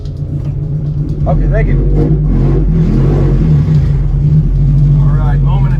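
A Honda Integra DA is driven slowly onto a weighing scale at a county recycling yard, a low engine rumble rising as it rolls on, while a person speaks briefly over it.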